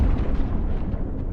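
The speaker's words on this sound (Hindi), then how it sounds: "मैंने कुछ दूरी पर एक जोरदार धमाका सुना।" A loud, deep explosion sound effect in a horror story, a heavy rumbling boom that fills the short moment with sustained low roar.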